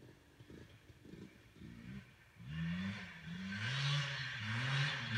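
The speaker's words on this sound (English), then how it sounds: "He loves that two-stroke." A two-stroke dirt bike ridden by a ten-year-old revs in the distance, its buzzing engine rising and falling in repeated throttle swells that grow louder as it approaches.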